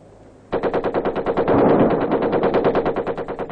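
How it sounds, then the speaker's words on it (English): Rapid, sustained machine gun bursts in a Vietnam-era military training exercise, a dense rhythmic rattle of shots that starts abruptly and keeps pounding loud and close for several seconds with no voices. "the occasional chatter of machine guns"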